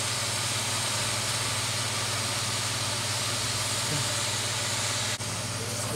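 Cabbage and shiitake mushrooms stir fried with oyster sauce give a steady, broad hiss and sizzle throughout, close and even, over a low constant hum, with no talking.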